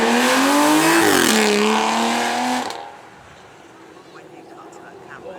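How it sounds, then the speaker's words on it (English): An Aston Martin DB9 with a V12 engine roars past at a Beaulieu supercar weekend, its loud revving note shifting pitch as it passes, then fading into quiet ambience. "Now have a listen to this Aston Martin, listen to the V12 in it"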